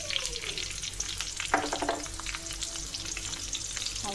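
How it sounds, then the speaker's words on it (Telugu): Chopped onions sizzle steadily in leftover pakoda frying oil in a pan for an Andhra-style spicy chicken curry, with a quick stirring scrape midway through the soft, constant crackle. "ఇగోండి ఆనియన్స్ వేసుకుంటున్నాను."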